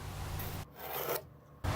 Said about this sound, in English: Now I can mark a line along the edge of the cast iron tabletop.